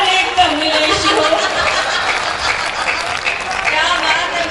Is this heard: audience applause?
yes